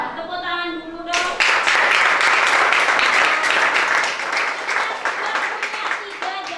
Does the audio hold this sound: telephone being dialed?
no